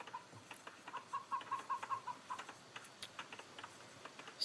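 Chickens in the video game Age of Empires II give short, repeated clucks with soft game clicks and ambient noise around them. The sound is moderately faint and comes in a loose cluster near the middle.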